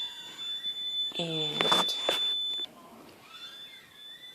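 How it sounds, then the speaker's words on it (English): A household alarm beeps as a high steady tone with a louder sounding burst near the middle, while a person talks over it. "someone had set the alarm off."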